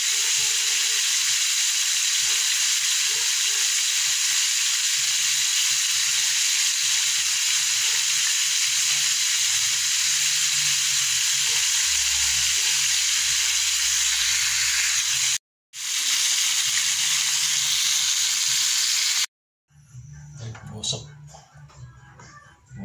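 Loud, continuous sizzling of food frying in a pan fills the clip, with soft voices underneath, a brief dropout, then quieter stirring at the end.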